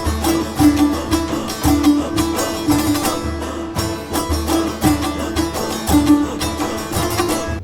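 Persian classical vocal music: a singer holds ornamented, wavering lines over plucked string accompaniment with regular rhythmic strokes. The mix is full and loud and plays continuously.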